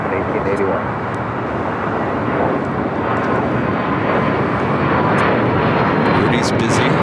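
An American Airlines jet rolls on the runway at LAX, a loud steady roar of jet engines that builds slightly, heard over ongoing talk.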